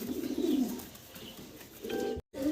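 Pigeons offered for sale coo nearby in low, throaty rolling calls, one bout early and another near the end, alone with no talk.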